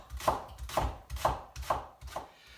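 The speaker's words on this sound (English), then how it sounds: "So the first stage is very simply to start chopping the leeks." Leeks being sliced with a knife on a cutting board, the dark green tops removed and stalks halved lengthways: five steady, evenly spaced chops with a clear thud and crunch, close and alone.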